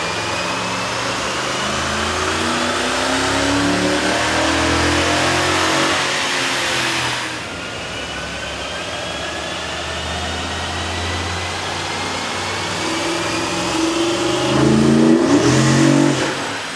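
A Toyota Tundra or Sequoia 4.7L truck engine with an aftermarket air intake drones and revs steadily at close range on a dyno, its pitch climbing and dropping with throttle, with a brief surge near the end.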